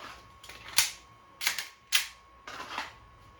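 A handgun being dry fired gives several sharp, close mechanical clicks and snaps from the trigger and action, irregularly spaced over a few seconds in a quiet room.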